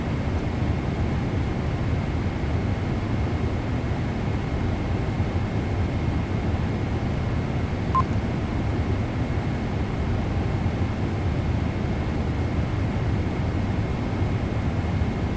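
Loud, steady wind roars outside an airplane in flight, a continuous broadband rush that drowns out the engines and stays unchanged from start to finish.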